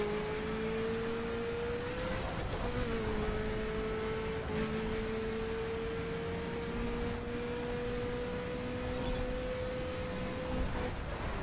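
A Ferrari F40 engine in The Crew racing game holds a steady, nasal whine that climbs only slightly, with brief chirps and clicks over a constant road-noise hiss.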